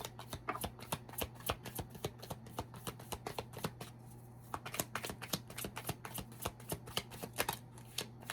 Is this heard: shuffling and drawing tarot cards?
yes